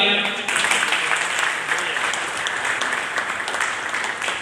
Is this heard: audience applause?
yes